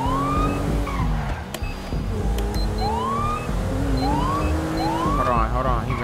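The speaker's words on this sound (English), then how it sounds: "There go the police cars right there, too." A wailing police siren from GTA 5 role-play sweeps up and down several times over loud street and engine noise, with voices talking over it throughout.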